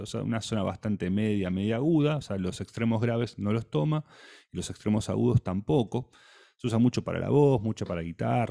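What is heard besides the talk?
None of the usual background noises is heard.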